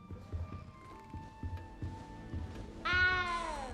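A cat in the video game Hogwarts Legacy lets out one loud, drawn-out meow near the end, after a stretch of quiet game music and ambient thumps.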